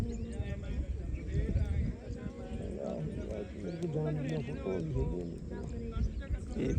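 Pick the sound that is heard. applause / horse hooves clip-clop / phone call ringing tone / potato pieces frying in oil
horse hooves clip-clop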